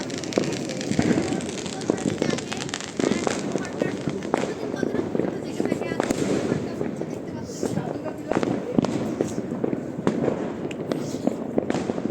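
Fireworks bursting all around during New Year celebrations, a dense continuous barrage of crackling pops and bangs near and far, with voices talking underneath.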